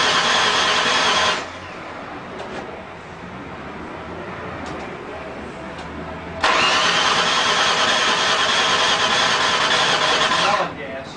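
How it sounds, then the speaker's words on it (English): An SHO car at a 2007 SHO convention being cranked while its fuel pump primes: two loud, buzzing cranking bursts separated by a quieter mechanical stretch, with voices nearby. "Can you hear the fuel pump priming?"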